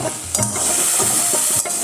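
Kochur loti paste frying in a kadai, a dense continuous sizzle with scraping stirs of a spatula against the pan, close and loud with no voices.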